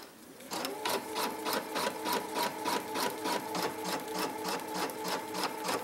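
Embroidery machine stitching an in-the-hoop Post-it note cover, a fast, even, rhythmic mechanical clatter of repeated needle strokes starting abruptly and continuing steadily up close.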